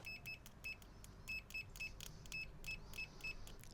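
A multimeter in continuity mode beeps as probes touch, a string of short, clear, evenly pitched beeps in an irregular rhythm, close and fairly quiet over low background rumble.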